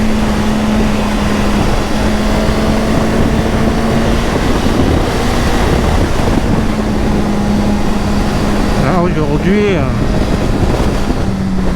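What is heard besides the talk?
gusty wind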